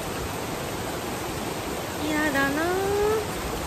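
Heavy rain falling on a mountain trail on Mount Amakazari in Japan gives a dense, steady hiss throughout, with a short spoken remark midway.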